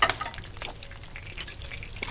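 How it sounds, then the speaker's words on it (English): Frying food sizzles in a cooking video game, a steady soft hiss with light clinks and stirring clatter, a sharp clink at the start, no voices. "Start frying."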